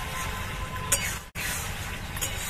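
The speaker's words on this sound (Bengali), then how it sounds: "স্প্রিং অনিয়নটা দিয়ে একটু ভালোভাবে ভেজে নেব আর একটু" Spring onions sizzle steadily in a pan for cabbage Manchurian, with a spoon stirring and clinking once against the metal; there is a momentary break in the sound partway through.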